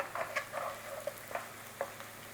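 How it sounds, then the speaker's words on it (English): Butter and curry sizzle in a frying pan as they are stirred, a quiet, close crackle with soft scraping strokes over a few seconds. "Give it a little stir around."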